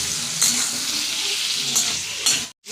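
Ridge gourd frying in a hot pan with tomato and salt for a light fish curry, a steady loud sizzle with a few sharp stirring scrapes, then a sudden brief drop to silence near the end.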